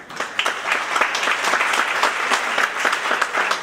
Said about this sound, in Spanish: Recibamos con un fortísimo aplauso al doctor Ricardo Rivera